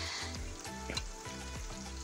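Carrots and sucuk sizzle in a hot pan, a steady close frying crackle with soft scraping from stirring, with no voices.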